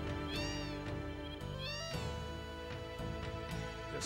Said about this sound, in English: it looks like there's a cat in the way